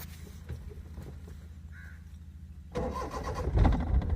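A car engine cranks and catches partway through, rising into a louder running idle after a quiet stretch with faint background noise.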